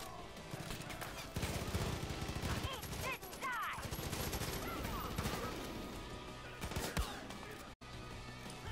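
Dense gunfire from the video game Far Cry 5, with rapid bursts and loud shots packed tightly against a busy game soundscape. The shooting runs continuously through the whole stretch.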